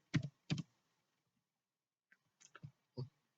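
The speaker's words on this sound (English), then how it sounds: "you just need to type here reset option" A computer keyboard being typed on while entering a reset option in a Windows search box: a few quiet, isolated keystrokes, two near the start and a small cluster after a pause.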